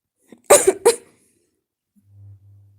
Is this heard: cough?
yes